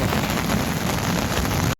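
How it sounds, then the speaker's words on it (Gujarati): Rain falls steadily in a village during a thunderstorm, a dense, even hiss of drops that stays close and constant before cutting off abruptly. "હજી તો વરસાદ ચાલુ છે ધીમે ધારે તમે જોઈ શકો"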